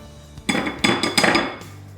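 A spatula presses custard through a metal strainer, giving a few scraping, clinking strokes close by over about a second, loud and without talk.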